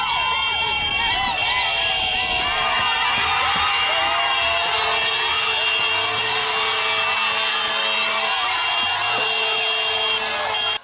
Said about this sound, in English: greeted by mammoth crowds chanting and cheering for their preferred candidates